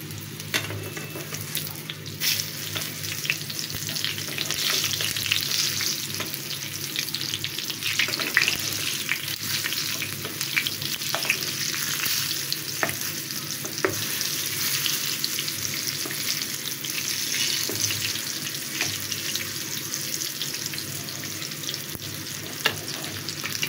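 Pieces of pointed gourd (potol) sizzle steadily in hot oil in a pan, with scattered crackles and occasional clinks and scrapes as they are turned over, with no one speaking.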